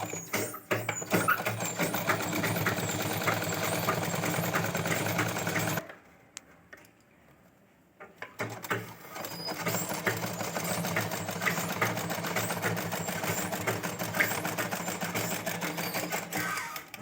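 Sewing machine stitching a zip onto a baby gown, a fast continuous mechanical whir that stops for about two seconds, then resumes steadily, close up.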